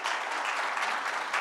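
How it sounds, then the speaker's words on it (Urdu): A crowd claps for an arriving guest at the Multan Education Board's Khair Ul Wara conference, brisk and continuous applause filling the whole brief moment. "آپ کی بھرپور تالیوں میں قاری عبدالرزاق صاحب."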